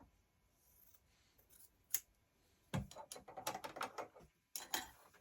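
Scissors snip through fabric while a quilt block is trimmed, giving a few isolated cuts followed by a quick run of close, crisp snips with pauses between them in a quiet room.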